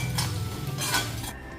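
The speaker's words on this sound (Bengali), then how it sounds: "তো এখানে আমার কড়াইটা গরম হয়ে গেছে, এটা আমি এখন শুকনো খোলায় ভেজে নিব।" Cinnamon, cloves, peppercorns and dried chillies dry roasting in a hot pan, with close metallic scraping and clinking of a spoon stirring against the pan and a soft crackle underneath. No speech.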